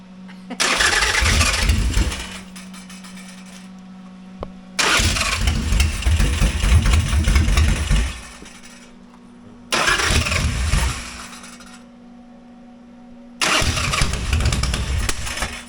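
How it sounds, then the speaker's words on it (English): A motorcycle engine at a Mecum auction roars in four loud, sustained bursts separated by quieter stretches with a steady low hum, close by and with no clear talk. "Oh, keeps smoking. Well, it's backfiring."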